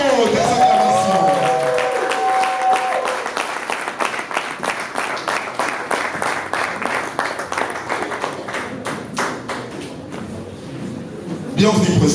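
A studio audience at a Congolese music variety show bursts into sustained applause and cheering to welcome a guest, dense clapping running throughout with crowd voices and a brief sung or called tone near the start, swelling again at the end.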